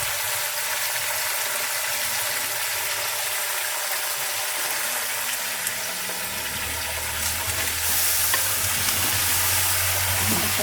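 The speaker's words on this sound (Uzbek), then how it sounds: "Yaxshilab qovurib tashlasak" Meat fries in a pot for Uzbek qovurma, a dense continuous sizzle with stirring scrapes, staying steady and close before growing slightly louder toward the end.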